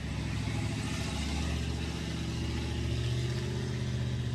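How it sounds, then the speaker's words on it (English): A commercial vehicle with a turbo V8 accelerates hard down a drag strip, a loud, continuous engine roar with rising pitch through gear changes, heard from moderately close without talk. "That's how I like my commercial vehicles, turbo V8s."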